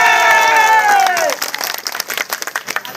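Crowd at an outdoor village election campaign rally breaks into loud applause and cheering right after an amplified speaker's voice fades, the clapping continuing dense and close for a couple of seconds.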